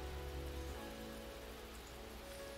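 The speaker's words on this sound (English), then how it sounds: "we're left listening to the rain once more" Rain falls steadily in a visual novel game scene, a faint, even hiss of drops with a soft low background hum, continuous and without voices.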